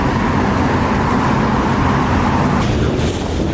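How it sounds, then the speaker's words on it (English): Steady, dense street traffic heard from an elevated bridge, a continuous broadband roar of cars, buses and trucks rolling below, with a slight swell of a passing vehicle near the end. "Now there certainly is lots and lots of traffic."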